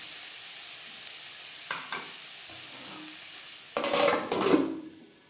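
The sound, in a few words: stirring vegetables frying in a pan for chicken rolls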